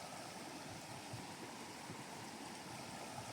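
A river rushes and splashes over rocks along the Appalachian Trail, in countryside damaged by Hurricane Helene. The close, steady wash of water runs unbroken and fairly loud throughout, with no voices.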